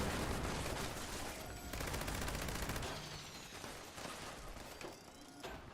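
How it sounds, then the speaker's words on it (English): Plasma grenades in Fallout 76 go off amid rapid, crackling bursts of gunfire-like blasts, a dense fusillade that rattles on for several seconds at moderate, slightly distant volume. "whoever's thrown those plasma grenades needs to piss off"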